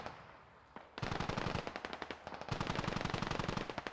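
Machine gun fire in the video game Squad, sustained rapid automatic bursts that start abruptly and keep a steady hammering rhythm, loud and dense, with no talk over them.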